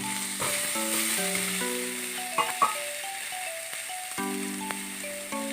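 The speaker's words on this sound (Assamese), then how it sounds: "এটা কাটি থোৱা বিলাহী দি ভাজি লৈছোঁ" Chopped tomato, green chilli and ginger-garlic paste fry in a pan, a soft steady sizzle with a couple of faint clinks, largely under prominent melodic music.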